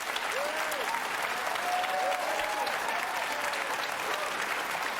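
Applause from an audience at a political speech in London, a steady dense roar of clapping held at even loudness throughout, with faint whistle-like tones drifting over the top.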